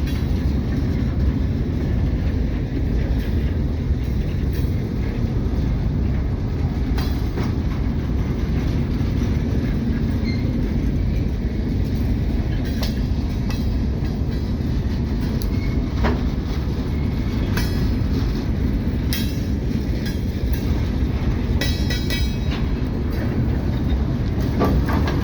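Two trains pass on a railroad in a loud, steady rumble with clickety-clack wheel noise and scattered metallic clicks and squeals throughout, close by and continuous.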